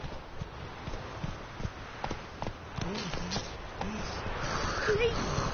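Hooves of Roach, Geralt's horse in The Witcher 3, clip-clop in a steady trotting rhythm on open ground, close and continuous beneath in-game voices.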